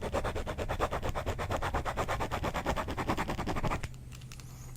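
A ballpoint pen scribbles on a pad of paper close to a microphone, a rapid series of scratchy back-and-forth strokes for nearly four seconds that stops abruptly, leaving quiet room hum.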